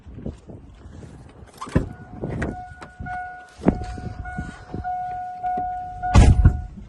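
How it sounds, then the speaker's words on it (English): An emergency vehicle arrives at a horse farm yard after a hay barn accident. Two steady tones hold for several seconds over rumbling engine noise and wind buffeting, moderately near. "Here comes another emergency vehicle."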